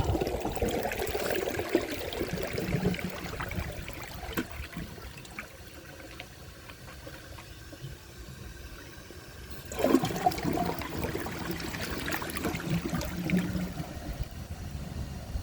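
A 1999 Universal-Rundle Atlas comfort-height toilet flushes with a dish towel in the bowl, giving a loud rushing swirl of water, then a quieter trickle as the tank refills, followed by a second surge of flushing water near the end.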